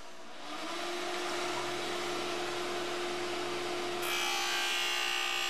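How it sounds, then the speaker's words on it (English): An ice skate blade is cross-ground on a sharpening wheel, giving a steady high whirring grind that gets harsher and brighter near the end. "First, cross-grind the blade."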